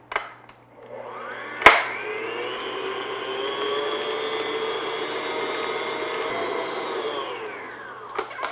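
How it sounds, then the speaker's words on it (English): Electric mixer beating eggs one at a time into Victoria sponge batter, a steady whirring drone that spins up after a sharp knock, holds evenly for several seconds, then winds down, with no talking. "I'm going to add 1 egg at a time, beat that in, and carry on to all of them."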